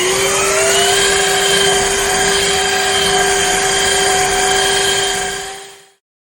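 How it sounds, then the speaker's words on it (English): A Shark HydroVac wet floor vacuum cleaner runs loud and close with a steady high whine over a rushing airflow, then winds down and cuts off near the end. "so let's get this vacuum"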